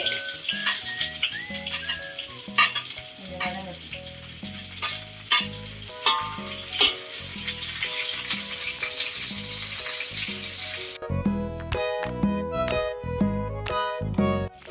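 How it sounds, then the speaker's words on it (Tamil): Onions tossed into hot oil sizzle and splatter loudly up close, with repeated sharp clanks and scrapes of stirring over a continuous crackling fry in a home kitchen. "அப்படியே வெங்காயத்தை போட்டு எவ்வளோ தெரிக்குதே"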